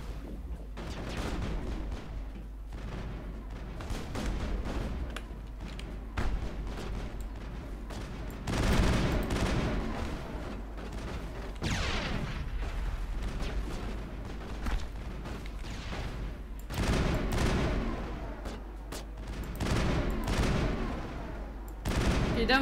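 Assault rifle bursts in the video game Mass Effect, repeated rapid volleys of gunfire through the whole stretch, some bursts louder and longer than others, with occasional voices mixed in.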